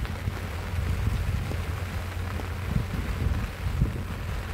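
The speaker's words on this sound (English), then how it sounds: "It's raining." Rain falls steadily at Scarborough Harbour, a continuous low, rumbling wash mixed with wind buffeting, loud and close throughout with no talking.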